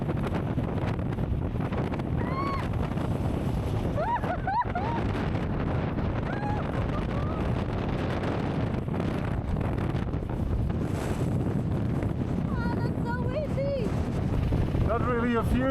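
Strong stormy wind in Iceland buffets the microphone with a constant loud roar and rumble, while a few faint whistling or voice-like tones surface now and then.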